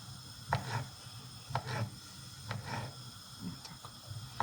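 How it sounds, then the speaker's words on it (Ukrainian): A carrot being chopped on a board with a knife while making an Olivier-style salad, about five evenly spaced cuts landing roughly once a second, close and moderately quiet with no talk. "Тепер нарізаємо нашу морку."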